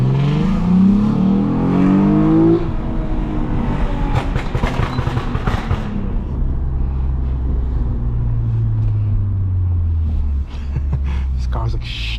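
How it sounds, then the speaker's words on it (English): A catless Lexus IS250 engine climbs loudly through revs during a night drive, with rising and falling drone through the gears and a deep rumble after a shift, close and dominant throughout. "This car's extremely loud."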